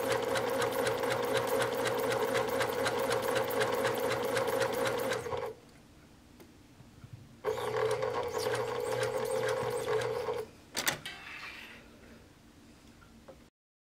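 A sewing machine stitches stretchy fabric held with pin basting, running in close, steady bursts: a long run, a pause, a second run, then a brief final spurt before stopping, with no talk.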